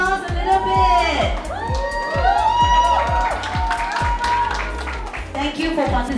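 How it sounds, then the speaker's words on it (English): Crowd at an egg tart eating challenge claps and cheers loudly and steadily, with whoops and shouts rising over the applause throughout. "Round of applause a little bit."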